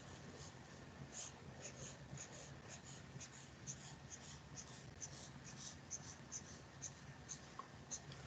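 A pencil sketches short strokes on paper in a quick, close, repeated scratching rhythm, faint but steady throughout.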